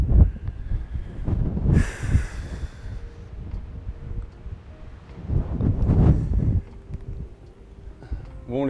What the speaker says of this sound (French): Franchement, il y a beaucoup de vent.